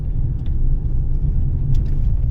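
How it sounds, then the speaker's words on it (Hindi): Heavy city road traffic in Istanbul, a steady low rumble of car engines and tyres close by with no horns, continuous and fairly loud throughout. "इतना सारा ट्रैफिक है फिर भी कोई भी हॉर्न वॉर्न की आवाज़ नहीं आ रही"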